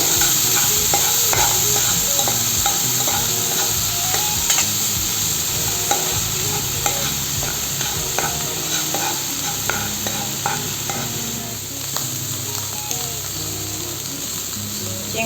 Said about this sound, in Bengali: এখন আমি চিংড়ি মাছগুলোকে কড়াইয়ে দিয়ে কিছু